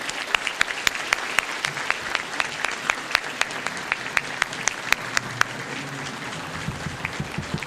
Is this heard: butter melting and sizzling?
no